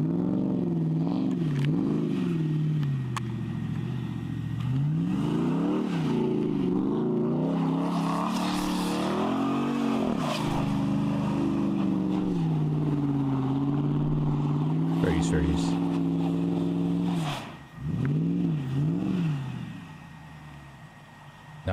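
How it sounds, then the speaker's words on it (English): A Jeep Grand Cherokee SRT8 WK engine revs hard and continuously while doing donuts, rising and falling in pitch as it circles, loud and close with a brief dip near the end. "This one's gonna be from the outside doing some donuts."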